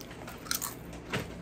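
Kettle cooked potato chips in stuffing and herb, black truffle and hot sauce flavors are bitten and chewed up close, giving two or three sharp, brittle crunches that stand out clearly with no talk.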